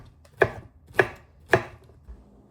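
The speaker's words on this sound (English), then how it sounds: "if you think I'm cutting a pineapple wrong" Three sharp knife chops through pineapple on a cutting board, evenly spaced about half a second apart, close and crisp, followed by a fainter fourth tap; no voices.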